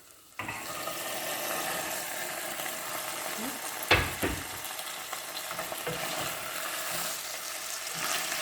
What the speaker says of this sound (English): Now I'm adding the beans.